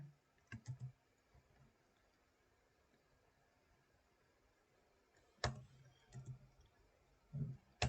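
Keys clicking on a computer keyboard while typing out terminal commands, in short bursts of several quick taps separated by quiet gaps, fairly close and alone.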